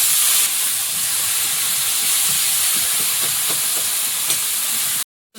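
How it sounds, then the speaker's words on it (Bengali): Spice paste hisses in a hot pan after water is added, a loud continuous steamy sizzle with faint stirring taps under it that cuts off near the end. "একটু জল দিয়ে মশলাটাকে কষিয়ে নেব"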